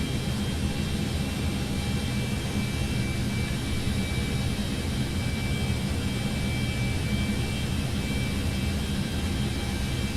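Cessna Citation X business jet rolling out after landing in a flight simulator: a constant, loud broadband engine roar with a faint high whine, steady throughout without pauses.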